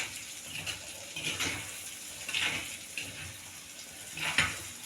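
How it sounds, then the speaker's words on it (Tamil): Tamarind water goes into hot oil with spices for Nellai-style oil eggplant curry, bringing a close series of watery splashing, sloshing bursts with a hissing edge, about four surges in a few seconds, and no talk. "பரட்டி விட்டுட்டு உடனே புளி தண்ணி போட்டுருங்க"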